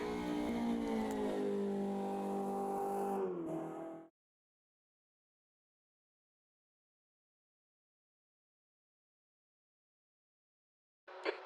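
A BMW 2002 Turbo race car engine in the racing game Automobilista 2 at Monza revs loud and close for about four seconds, then cuts to silence, with a brief burst returning at the very end.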